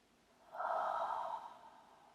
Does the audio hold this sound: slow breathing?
yes